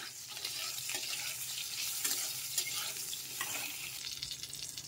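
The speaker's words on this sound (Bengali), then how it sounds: "দিয়ে আলু পটলটা আমি লাল লাল করে ভেজে নেব।" Potato and pointed gourd pieces fry in oil with a pinch of turmeric, a continuous moderate sizzle with stirring scrapes and spatula clicks throughout, close by and without talk.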